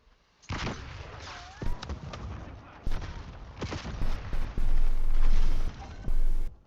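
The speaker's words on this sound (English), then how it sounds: "Thermal grenade out." A thermal grenade goes off in Call of Duty: Black Ops 6, part of a loud burst of booms and gunfire-like cracks in a chaotic match, with strong hits building and clustering toward the end.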